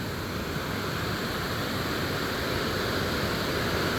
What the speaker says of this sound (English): Here we are at the little dam spillway waterfall thing.